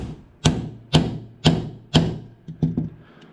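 Hammer striking a drift to knock a pin out of a charging handle on a RAW armored rifle build, six sharp metallic whacks: four evenly spaced, then two quicker ones, close and alone.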